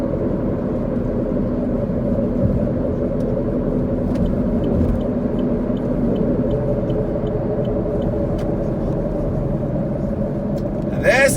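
A car drives along a road near Blue Springs on the south side of Cleveland, Tennessee, its engine and tyre rumble forming a steady, close drone for the whole stretch, with a brief rise at the very end.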